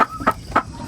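Chicks cheep on a low-budget farm where some have died: three quick, close chirps come in a short burst, with no other sound around them.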